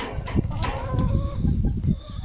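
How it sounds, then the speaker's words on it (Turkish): Chickens and a rooster cluck softly and continuously up close while pecking mulberries from an outstretched hand, low throaty murmurs with a few sharper calls. "Evet arkadaşlar tavuklar elimden dut gördüğünüz gibi"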